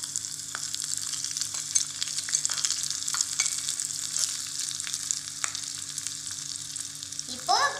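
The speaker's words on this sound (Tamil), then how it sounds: "இப்போ நம்ம வெங்காயம் ஆட் பண்ணிக்கலாம். இப்போ இதை நல்லா வதக்கி விட்டுக்கலாம்." Chopped onion sautés in a tiny miniature cooking pot, crackling with a steady close sizzle and occasional light scrapes of stirring, no voices.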